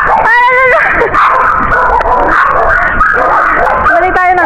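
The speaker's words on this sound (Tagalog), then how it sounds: "Balik tayo, nanunugod yung aso." A black dog barks and yips in sharp, excited bursts while charging toward people, loud and close, with people speaking over the barking throughout.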